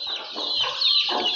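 A hen clucks in short, close, throaty bursts, a quick run of calls over about a second.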